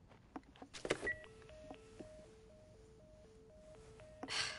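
A phone being dialed in the video game The Last of Us: a row of evenly spaced electronic beeps that alternate between two pitches, fairly quiet, between a few soft clicks and thumps.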